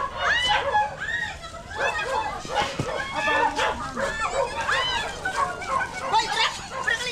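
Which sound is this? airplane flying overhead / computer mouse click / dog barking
dog barking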